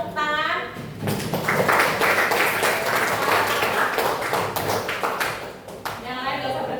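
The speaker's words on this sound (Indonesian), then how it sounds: "Tepuk tangan." Students in a classroom clap for quiz winners, a dense burst of applause lasting several seconds, with a voice speaking briefly before and after.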